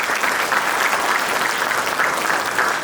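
Audience applause for teachers at an alphabet celebration in an Uzbek school class, a dense, steady clatter of many clapping hands that stays loud and even throughout, without a break.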